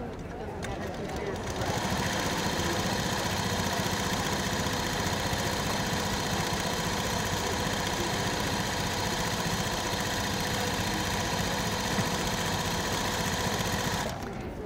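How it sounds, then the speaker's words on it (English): A Juki sit-down long arm quilting machine stitches steadily, a continuous mechanical hum and rapid needle rattle running loud and unbroken for about twelve seconds before stopping. "So now I'm going to show you a little bit of stitching on the sit-down."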